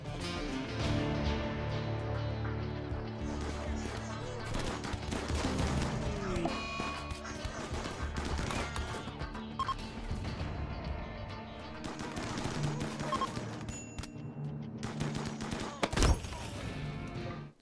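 Bursts of gunfire in the colony-sim game RimWorld, with repeated sharp shots and rapid volleys scattered across a busy mix of game sounds and music.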